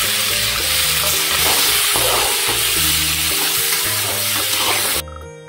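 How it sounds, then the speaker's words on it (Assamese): Tomatoes and spices are stirred in hot oil in a wok, giving a loud continuous sizzle with scraping stir strokes, until the frying cuts off abruptly near the end. "এতিয়া বিলাহীখিনি দি আকৌ অলপমান লৰাই ল'লোঁ"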